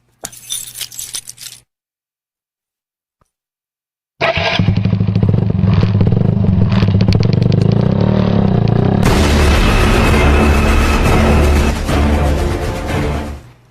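A motorcycle starts up and roars loudly, revving steadily and then louder as it rides off, after a brief burst of noise and a few seconds of silence.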